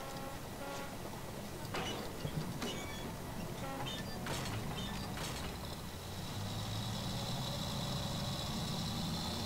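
A Battlefield 1 light tank's engine rumbles low and fairly faint, a steady mechanical drone with scattered creaks and clanks over a noisy battlefield background.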